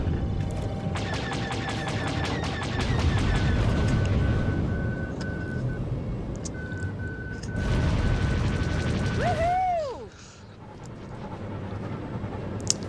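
Video game air combat with a missile striking an aircraft in flight: dense rapid gunfire-like bursts and a sustained whine, then sweeping tonal arcs near the end as the hit lands, loud and busy throughout.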